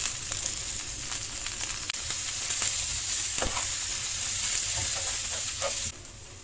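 Onions sizzle with garlic and ginger in a curry pan for a Sri Lankan young jackfruit curry, a steady close frying hiss with occasional stirring scrapes and no talk.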